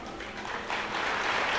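A church congregation claps hesitantly, a soft, scattered patter of hands that builds slightly and stays at a steady moderate level, heard from within the room.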